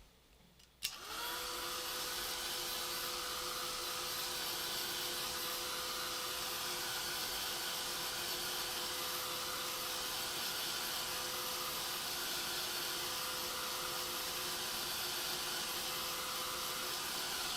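A heat tool switches on with a click and then blows hot air steadily onto a cardstock birthday card, a loud, even whooshing hiss with a faint tonal whine that runs unbroken for over sixteen seconds.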